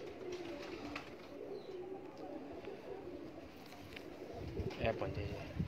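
Domestic pigeons kept by a fancier coo softly in a low, faint rumbling rhythm, with quiet background voices and occasional chirps around them.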